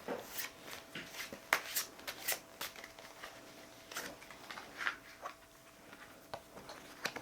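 I Ching divination cards being shuffled and drawn, a quiet run of soft flicks, slides and taps from cards handled close up in a calm room.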